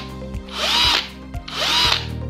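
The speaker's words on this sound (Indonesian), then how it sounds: "kalau untuk mode bor tembok itu ada krak-kraknya gini ya" Bosch GSB 120 LI 12-volt cordless drill running in hammer drill mode, two loud bursts of whirring motor with a rapid rattling hammer action, each about half a second long, separated by short pauses.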